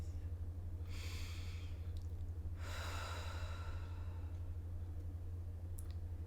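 Slow, deep breaths during a guided meditation: two soft, airy inhale-exhale swells stand out over a steady low hum, fairly close and gentle, with no speech.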